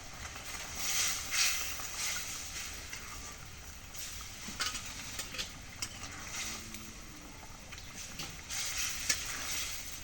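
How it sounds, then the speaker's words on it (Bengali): Meat fries in a spice paste in a home kitchen pan, with soft continuous sizzling and occasional scrapes of stirring, fairly quiet, with no talk. "মশলাটা কষানো হয়ে গেছে মাংসটা দিয়ে দিই"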